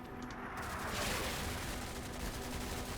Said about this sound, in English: That's just some harassing fire I've got on.